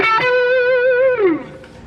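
Sustained overdriven electric guitar note through a Boss OD-200 overdrive pedal, a single held tone with slight vibrato that bends downward and fades out near the end.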